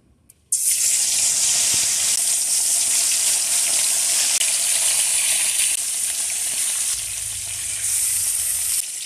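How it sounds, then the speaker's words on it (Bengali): Rui fish rubbed with turmeric and salt frying in hot oil in a pan, a loud, steady, close sizzle that starts abruptly and holds evenly throughout. "এখন আমি এই যে রুই মাছটা আগে থেকে আমি কেটে ধুয়ে হলুদ লবণ লাগিয়ে নিয়েছিলাম, এখন ভেজে নেব"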